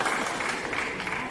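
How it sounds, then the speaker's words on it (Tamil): Brief burst of audience clapping at a Tamil film event, steady and fairly close. "ஆள் கொடுத்து வந்துருக்கீங்களோ கைத்தட்டுறதுக்கு"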